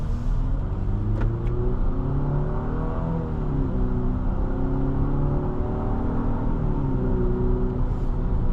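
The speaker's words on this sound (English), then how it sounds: "Smooth acceleration." A 2027 Infiniti QX60 Sport accelerates on the road, heard from inside the cabin as a steady, moderately loud engine hum that rises smoothly in pitch throughout, with no talking.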